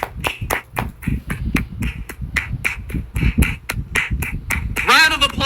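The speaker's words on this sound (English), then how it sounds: "Round of applause for Charlie Kirk making his point." A crowd breaks into brisk, uneven clapping as a round of applause, with sharp rhythmic hand claps mixed with voices talking throughout. A high whooping shout rises near the end.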